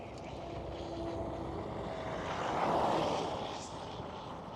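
Airliner landing at Amsterdam Schiphol airport, a broad distant jet roar that swells to a peak midway and then eases, with no voices.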